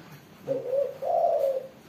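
A pet zebra dove (perkutut) gives a close, clear two-part coo, a soft note followed by a longer, rolling one, against a quiet background.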